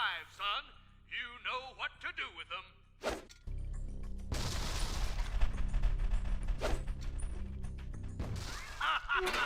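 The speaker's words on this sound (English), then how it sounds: "Some fucking crazy grenades." Grenade explosions in the video game True Crime: New York City sound as loud booming blasts with a long rumbling roar after a burst of game speech.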